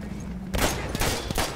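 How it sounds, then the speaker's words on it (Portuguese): Battlefield 1 gameplay carries a burst of machine gun fire, rapid loud cracks opening suddenly after a brief lull and rattling on with a few sharper reports. "Pega arma de tiro de metralhador."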